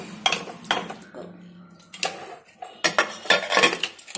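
A spoon working mutton around in a pot, with irregular clinks and scrapes against the metal in short bursts, close by and moderately loud.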